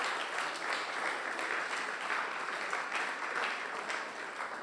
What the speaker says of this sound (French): Est-ce qu'on peut acclamer très fort pour la gloire de Jésus?